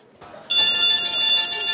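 A telephone rings in a Korean sketch-comedy stage scene, its bright, steady electronic ringtone starting abruptly after a moment of low background and continuing loud and close.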